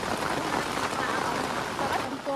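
Steady rain falls during a livestock drive in wet weather, a dense, even hiss of drops striking surfaces that continues without a break, with a faint tone near the end.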